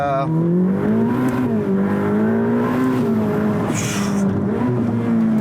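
A 2021 Ferrari F8 Spider's twin-turbo engine revs steadily and loudly while driving, its pitch rising and falling through gears in a continuous close-up roar with faint tire noise.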